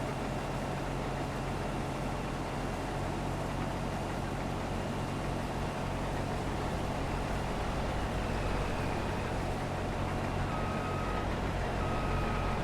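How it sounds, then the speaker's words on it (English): Truck in Farming Simulator 22 on the Zielonka map during a cotton harvest, a steady engine drone with an idling rumble, continuous and fairly even throughout, with a faint high beep toward the end. "That truck kind of snuck up on me."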